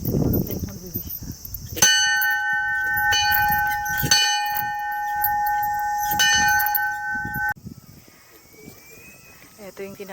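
A bell at the Lovers Sanctuary in a Japanese park is struck three times, each ring a bright clang with a long ringing decay, while people chat nearby.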